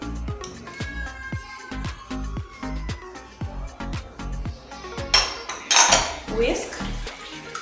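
A whisk beating teriyaki sauce with honey in a bowl, clicking rapidly and rhythmically against the sides, followed by a brief louder clatter of metal utensils toward the end.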